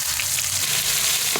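Spice paste hits hot oil left from frying a large paras fish, with cumin and bay leaf, for a fish curry. A steady, loud sizzle continues unbroken with no talk.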